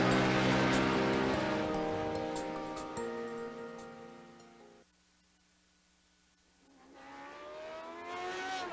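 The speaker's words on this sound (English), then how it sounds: "the sound of engines echo around you" Race car engines of Lotus 79 Formula 1 cars lapping Sonoma Raceway in the iRacing sim, loud harmonic engine notes shifting pitch as cars pass, dropping away briefly mid-clip before a rising, revving engine returns.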